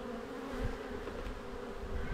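Honeybees buzz close by during a beehive inspection, a steady droning hum with a few low thuds of the frames being handled.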